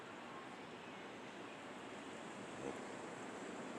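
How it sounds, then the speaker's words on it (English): Wind picking up outdoors at night makes a faint, steady rushing roar that stays even throughout with no pauses and no voices. "Wow, that wind is really starting to pick up."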